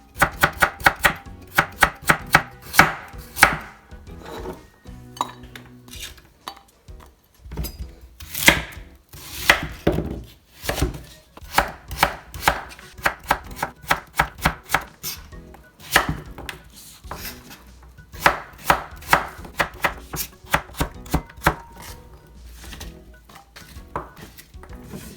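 A knife chops carrots on the diagonal against a cutting board while Japanese pork miso soup is prepared at home, with steady rhythmic taps in long runs and brief pauses, close and clear, with no talk.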